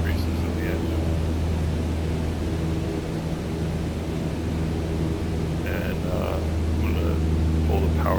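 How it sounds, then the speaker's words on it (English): A single-engine aircraft in Microsoft Flight Simulator 2020 drones steadily and loudly throughout as it levels off, with brief voice-like sounds toward the end. "As you level off, you can hear actually the RPM increases in the engine."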